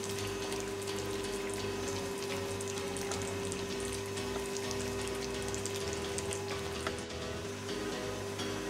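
Ginger and green chilies frying in oil in a kadai for a restaurant-style chicken brown karahi, giving a steady, close, continuous sizzle with a constant hum underneath and no talk.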